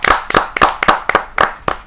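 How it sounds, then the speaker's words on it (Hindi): Loud, sharp claps from an audience welcoming a poet at a Hindi kavi sammelan, struck in a quick, fairly even rhythm of about seven distinct beats, close and unaccompanied by talk. "जरा जोरदार तालियों के साथ हम स्वागत करेंगे"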